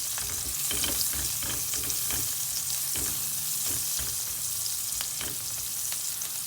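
Sliced onions, cut long and fairly large, sizzle and fry steadily in a pan over a high flame, a dense continuous crackle with faint stirring scrapes and no talking.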